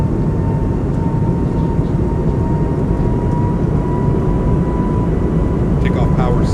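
Jet engines of an Airbus A220 in a flight simulator spool up toward takeoff power, a loud steady roar with a sustained whine under a pilot's voice calling out throttle settings.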